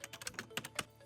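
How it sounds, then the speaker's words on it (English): Quick bursts of keystrokes on a computer keyboard as a search keyword is entered, about eight close, crisp taps in an uneven rhythm with no talking. "when I do a search, I type in the keyword"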